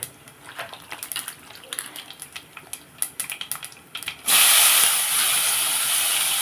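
Brinjal pieces go into a hot, salted pan for a fried eggplant dish, setting off a sudden loud, steady sizzle after a few seconds of light clicking and tapping.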